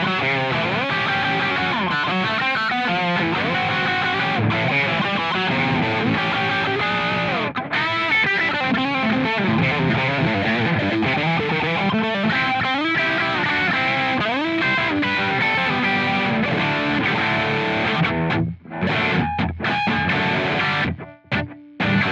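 A heavily distorted electric guitar through a Korg AX30G processor plays a continuous run of chords and riffs, loud and sustained, with brief gaps near the end.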